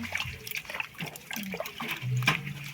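Homemade native coffee beans being washed in water, with gentle splashing, trickling and sloshing close by, irregular and moderately quiet.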